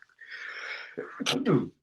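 A single sneeze from a lecturer with hay fever, a breathy inhale building for about a second and then a sharp explosive burst, close and alone with no talk.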